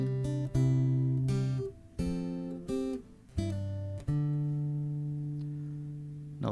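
A nearby acoustic guitar plays a fast riff of plucked notes and short chord strums, ending on a ringing chord that slowly fades.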